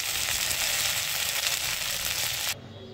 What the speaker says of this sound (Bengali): এখন এই ঢেঁড়সগুলো ভেজে নেব।